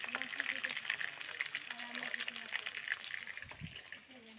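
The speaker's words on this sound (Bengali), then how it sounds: "মাংসের জন্য আলু ভেজে নিচ্ছি" Potatoes fry in a blackened kadai wok as a side for a meat curry, giving a steady, fairly quiet sizzle with bubbling oil and a stir near the end, under a voice talking.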